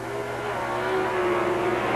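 Plymouth Pro Stock drag race cars, a Plymouth Volare and a Plymouth Arrow, roar down the track with a loud, steady engine drone that holds throughout.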